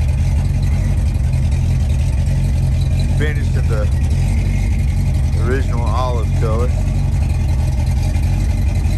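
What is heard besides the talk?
1971 Chevrolet C10 truck engine idling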